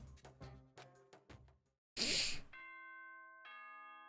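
A two-tone doorbell chime from the video game Danganronpa rings out clearly after a stretch of tonal game music, the sustained bell notes holding and a second tone layering in near the end.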